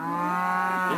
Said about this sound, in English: these are the cows of Cotton Cattle Farm in Bethlehem Township